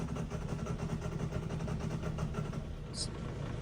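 A John Deere 6420 tractor with an intermittent misfire, its engine running rough and uneven under throttle with a pulsing, loping note; a voice talks over it.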